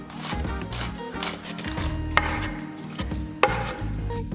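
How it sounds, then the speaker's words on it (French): A knife finely chops shallot on a board, a series of irregular close thuds and taps with a couple of sharper knocks, over a quiet background with no speech. "je viens tailler très finement mon échalote et je la fais revenir avec un petit peu d'huile"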